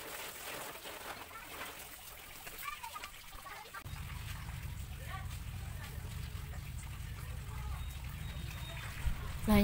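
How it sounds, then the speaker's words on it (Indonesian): Water poured over garden plants and dry soil in the morning, a soft steady trickle that becomes a fuller, louder splashing stream midway, with birds or ducks calling faintly and a person speaking at times. "Lanjut siram bunga-bunga yang ada di sini ya"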